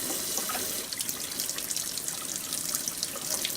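Warm water runs from a tap in a steady, close stream with light splashing and trickling, continuous throughout, with no talking.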